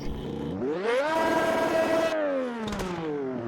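The Honda-powered Formula 1 car, Senna's number 12, revs in Automobilista 2. The pitch climbs steeply to a sustained high, smooth scream, then drops back with a brief crackle as the engine comes off throttle, loud and close throughout.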